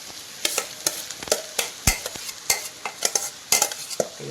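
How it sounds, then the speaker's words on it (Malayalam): Tomato rice made with cooked biryani rice is stirred in a frying pan, sharp repeated scrapes and knocks of a spoon over a soft sizzle, close and irregular with no voices. "ഇനി മൊത്തം മിക്സ് ചെയ്യണല്ലേ"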